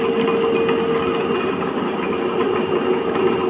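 A separately excited DC shunt motor runs steadily at a constant 1500 rpm on a test bench, giving a loud continuous electric whine with a fixed tone and mechanical hum, unbroken and without talk.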